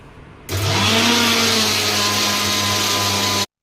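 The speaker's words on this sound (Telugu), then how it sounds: "మిక్సీలో వేసేస్తున్నాను" A kitchen mixer grinder starts abruptly and runs at a steady loud whine while blending ingredients for a stuffed brinjal curry, then cuts off sharply after about three seconds.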